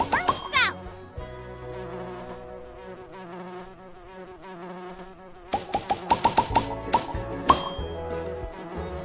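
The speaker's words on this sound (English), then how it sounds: "Vibrating until pollen bursts out." A cartoon bee buzz-pollinates tomato and squash flowers, shaking them until the pollen bursts out. A steady insect buzz hums beneath bright bell-like tones, then a fast run of sharp, rhythmic clinking pulses near the end.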